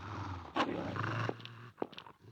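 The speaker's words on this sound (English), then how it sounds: "Doggy dogs." Pet dogs in a horror video game growling and snarling, a low rumbling growl broken by a few sharper yelps and barks, close and fairly quiet.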